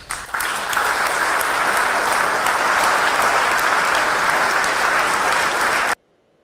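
Loud, sustained audience applause at a political debate, starting abruptly, holding steady for about six seconds as a dense roar of clapping, then cutting off suddenly.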